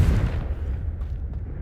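Confringo fire spell blast cast in Hogwarts Legacy: a loud, rumbling low burst that booms at the start and keeps a dense roar through the short clip, with no talk.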